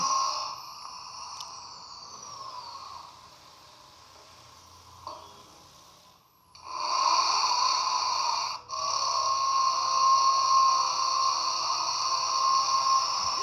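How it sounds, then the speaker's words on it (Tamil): A steady, high-pitched whirring power drill bores holes in a wall to mount a TV, running continuously, pausing briefly before starting up again louder and sustained, with a faint metallic whine. "இப்போ பார்த்தீங்கன்னா ட்ரில்லிங் போகிறாங்க"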